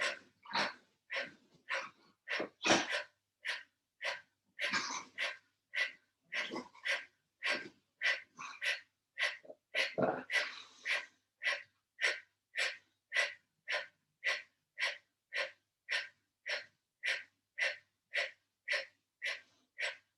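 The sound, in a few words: rapid forceful exhales in a yoga breathing exercise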